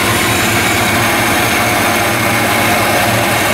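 A supercharged 2011 Cadillac Escalade EXT engine idles loudly and steadily close by in a closed garage, a constant low rumble with a rough, pulsing texture.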